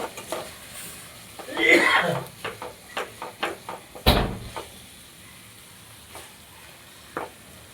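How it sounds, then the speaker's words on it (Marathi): Spices crackle in hot oil as tempering for a simple khichdi made with toor dal, sounding as a series of close, sharp sizzling bursts and pops, one loud burst standing out among shorter spurts, with a voice faintly present. "तर अशा प्रकारे बघा फोडणी देऊन घेते. फोडणी चांगली द्यायची, कडकडीत मस्त."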